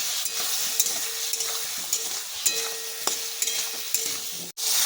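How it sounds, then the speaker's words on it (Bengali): Potatoes cooking down with ground onion, chopped tomato and spices in a pan make a continuous close sizzle, broken by repeated spoon scrapes and stirs, ending in a brief clatter. "এবার সব মশলার সঙ্গে আলুটাকে ভালো করে কষিয়ে নিতে হবে।"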